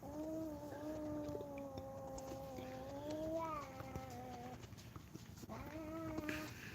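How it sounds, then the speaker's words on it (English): A small cat meows repeatedly and insistently, with long drawn-out vocal cries close by and fairly quiet against a soft background hum. "You're a vocal little cat."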